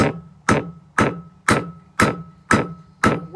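Hot high carbon steel hammered over an anvil horn while forging a fire steel: seven evenly spaced, ringing strikes about half a second apart, close and loud, each with a brief metallic ring that decays before the next blow.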